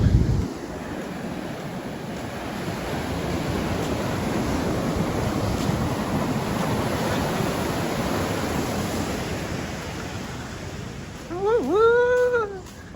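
Ocean waves at a beach at low tide: a steady broad wash of surf and wind runs throughout, swelling louder near the end, where a voice briefly speaks over it.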